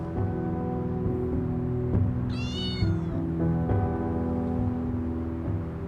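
A single cat meow rises briefly over a steady, humming tonal background.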